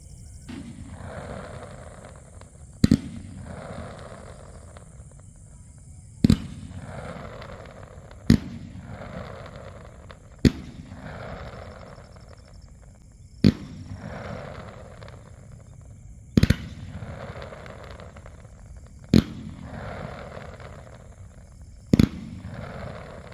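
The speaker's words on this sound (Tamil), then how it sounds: "First white glittering stars followed by red tail வர மாதிரி அவுட்புட் டிசைன் பண்ணியிருக்காங்க." A fireworks cake fires one shot after another, with sharp launch thumps about every three seconds followed by crackling glittery bursts and fizzing tails, sounding moderately close and with no talking.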